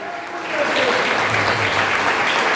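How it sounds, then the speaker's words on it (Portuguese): A church congregation claps together during a worship service, the applause rising after a brief quiet start and then holding as a dense, steady patter of many hands. "Palmas para Jesus."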